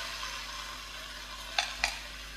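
Beef and onion sizzle steadily in a hot pan with a constant crackling hiss, interrupted by two brief clinks near the end.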